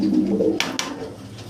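Domestic pigeons cooing in a loft, with low throaty coos in the first half and a couple of soft flutters or thumps, fairly close, with no talk.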